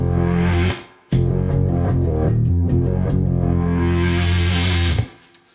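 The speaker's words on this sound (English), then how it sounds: "This is a sound that I use on one of my songs, and it's cool, quite a cool kind of sweepy thing." An Electro-Harmonix Micro Synth guitar synth plays a thick, distorted guitar-synth tone, its envelope filter opening and closing in bright sweeps across two sustained phrases with a short gap between.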